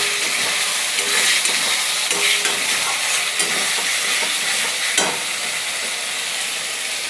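Potatoes sizzling and frying in a pan alongside chicken and spices, a steady broadband hiss with occasional stirring scrapes and clinks throughout.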